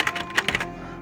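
Computer keyboard typing while entering an admin username on a library book-loan system login screen, a short burst of several quick clicky keystrokes that then stops, close and fairly clear with no voice.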